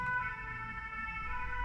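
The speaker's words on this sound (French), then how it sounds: "je vais attendre que les ambulances passent." A steady wailing ambulance siren holds for nearly two seconds over low road rumble, its sustained tones fairly loud and close as the vehicle passes.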